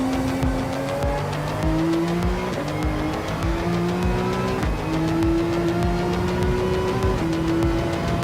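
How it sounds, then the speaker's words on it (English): Porsche 911 RSR race car in Gran Turismo 7 on the Daytona circuit, its engine droning loud and steady with rising gear-by-gear pitch sweeps, tire squeal and skidding mixed in throughout. "drive this car through the track"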